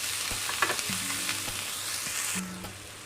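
Vegetables fry in a pan and are stirred: a steady close sizzle with scraping stirs and light clinks of the utensil against the pan.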